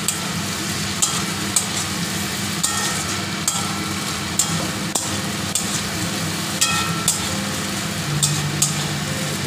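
Cauliflower and potatoes frying in a pan: a steady, loud sizzle runs throughout while a spatula scrapes and taps the pan at irregular intervals during stirring.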